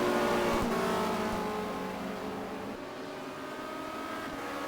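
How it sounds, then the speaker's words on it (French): Touring cars racing at Barcelona in the 1990 WTCC, engines droning loudly and steadily as the cars run past, with no talk over them. "Et Belm qui est en train de doubler Cleland"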